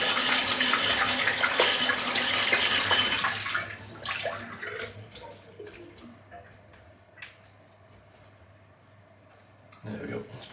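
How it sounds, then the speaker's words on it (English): Synthetic shaving brush rinsed under a running tap, a loud rush of water for several seconds before it thins to sporadic drips and splashes, with a faint voice in the background. "Seems to need quite a lot of rinsing out as well."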